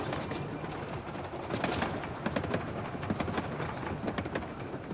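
A train on the Fairbourne Steam Railway, the narrowest-gauge line in Wales, rumbles along at close range with a steady, dense clatter of wheels on rails and a scatter of sharper clicks throughout.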